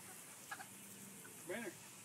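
A few faint chicken clucks, one short call followed by a longer rising cluck, over quiet background hiss.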